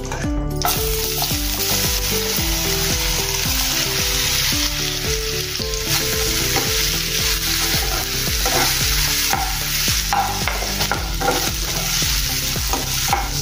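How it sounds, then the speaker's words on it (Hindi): Potatoes frying in hot oil with okra while being stirred, a loud, close, continuous sizzle with a steady scraping of the spoon throughout. "अब इसमें हम अपने जो आलू है हमारे वो इसमें तलेंगे।"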